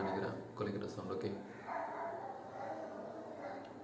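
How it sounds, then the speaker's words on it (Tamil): A dog barks and yips in short bursts early on, fairly faint and partly under someone talking, followed by quieter whimpering sounds as the speech continues. "உங்களுக்கு நாய் கத்துற சவுண்ட் மட்டும் கேட்கும்னு நினைக்கிறேன், குலைக்கிற சவுண்ட்"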